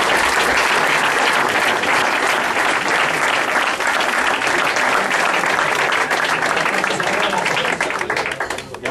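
A hall full of castellers at an honor-shirt ceremony bursts into loud, sustained applause, dense crowd clapping holding for nearly nine seconds before starting to thin at the end.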